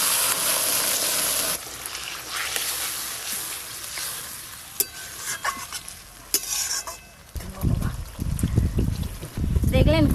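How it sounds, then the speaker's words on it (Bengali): Water poured into a pan of egg curry, loud sizzling at first that fades into stirring and scraping, then a burst of gushing and bubbling near the end, with someone speaking at times. "এবার জল দিয়ে দেব"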